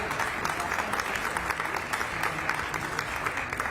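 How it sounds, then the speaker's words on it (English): A round of applause for an airport leadership team at a Cleveland airport announcement event, steady dense clapping from a crowd lasting throughout, fairly even in loudness with no talk over it. "let's give our leadership team at the airport a round of applause"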